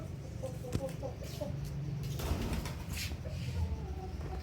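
Pigeons coo softly in and around a netted loft, low murmuring calls that come and go faintly over a busy outdoor background.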